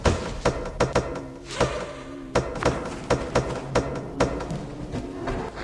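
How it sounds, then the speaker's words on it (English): A stove door closing in the horror game Bloody Nights, heard as a string of sharp knocks and thuds in an uneven rhythm, close and fairly loud with no talk over them. "Close the stove door."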